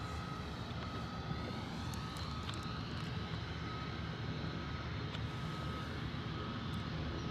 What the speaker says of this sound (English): here's our Gulfstream breaking through the cloud